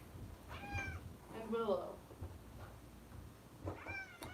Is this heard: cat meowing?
yes